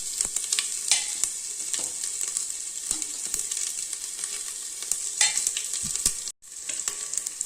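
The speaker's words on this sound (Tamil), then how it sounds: "கடுகு பொரியுதுங்க. இந்த மசாலா சாமானம் இஞ்சி பூண்டு பேஸ்ட் இது போட்டுக்கலாம்." Mustard seeds and ginger garlic paste fry in hot oil with a constant crackling sizzle, scattered pops and occasional stirring scrapes, briefly cutting out near the end.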